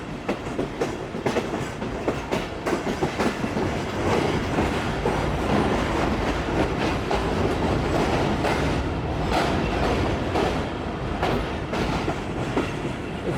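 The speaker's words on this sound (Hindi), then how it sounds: "मज़ेदार ट्रैक साउंड के साथ ट्रेन हमारी अप्रोच बना रही है जी।" Tezgam passenger train rolling over the tracks on its approach to Kotri Junction, heard from inside the carriage as a loud continuous rumble with rhythmic clickety-clack wheel beats and occasional squeals.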